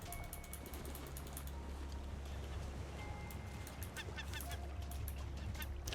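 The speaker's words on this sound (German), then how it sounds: "Wo ist der Vogel?" Honking, goose-like bird calls in the survival video game Raft repeat several times over a steady, loud low rumble of game ambience.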